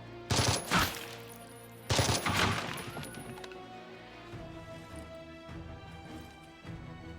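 Video game gunfire in two loud bursts of rapid shots near the start, followed by scattered fainter distant pops over a low ambient hum.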